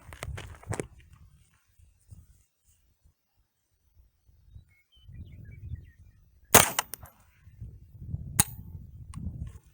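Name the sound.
Smith & Wesson M&P 15-22 rifle shots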